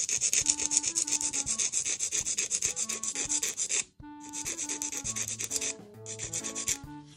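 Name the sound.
nail file filing a nail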